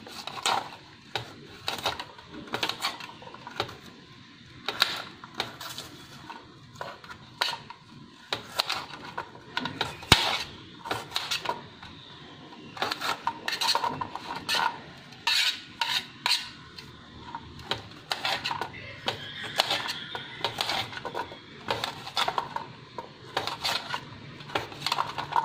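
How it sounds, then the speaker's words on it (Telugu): A knife chopping coconut into small pieces for a chutney, a long run of quick, sharp taps against a board in irregular bursts, close and fairly quiet with no talk. "కొబ్బరి కూడా కొద్దిగా తరిగి పెడతాను"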